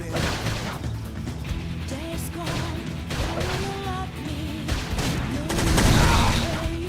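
Video game battle in Xenoblade Chronicles X: dense bursts of gunfire and impact crashes over a busy mix of music and effects, with character voices shouting in combat.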